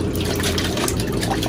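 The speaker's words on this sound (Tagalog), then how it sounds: "basain o di kaya sprayhan ng tubig" Water being sprayed on chicks, a dense, steady hiss and trickle of liquid close to the microphone, without pause.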